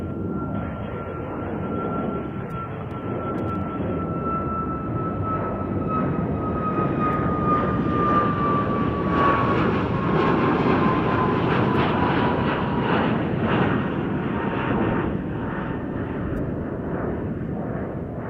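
Airplane taking off on a long runway at Chicago O'Hare airport, a loud, steady engine roar with a slowly falling whine that holds for the whole stretch, close and unbroken.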